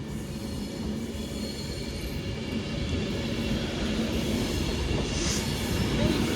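A Class 390 Pendolino electric train passing through Stafford station, with a continuous loud rumble of wheels on rail and a faint high squeal building slightly as it runs through.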